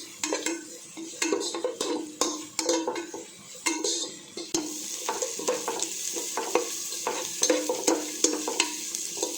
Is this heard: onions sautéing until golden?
yes